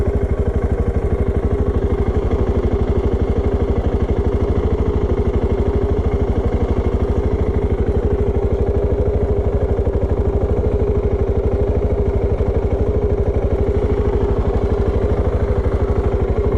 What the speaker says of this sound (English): when you rev it, it sounds really great, this monocylinder